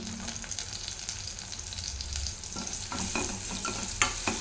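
Green chilies and curry leaves fry in oil in a pan while a spoon stirs, giving a soft, steady sizzle broken by a few sharp scraping clinks near the end.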